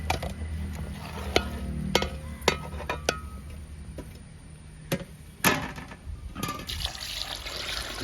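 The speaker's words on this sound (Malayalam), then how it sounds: "ഇവരെ വൃത്തിയായിട്ട് നമുക്ക് കഴുകിയെടുക്കാം." Beef pieces being washed in water for a beef pallicurry, with running and splashing water, sharp clinks and knocks of the pieces and the vessel, and a louder sloshing burst toward the end, without speech.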